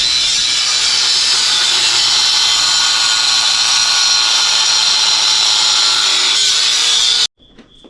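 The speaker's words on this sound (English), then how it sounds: "I'm gonna cut that real quick wherever it went, right there with the grinder" An angle grinder cuts through a car part on a 10th-gen Honda Accord during a motor raise, a loud, steady high-pitched whine held for about seven seconds before stopping abruptly, followed by quiet.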